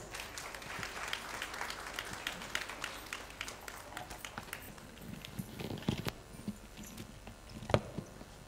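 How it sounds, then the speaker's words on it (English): An audience at a school's 40-year ruby jubilee celebration applauds to welcome a speaker, a sustained wash of many hands clapping at moderate distance that thins out toward the end. "Welcome her with a big round of applause."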